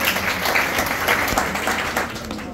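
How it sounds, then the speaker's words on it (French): An audience applauds at a wedding celebration, a dense, steady burst of clapping that fills the whole stretch without pause. "Applaudis, jean Angelo."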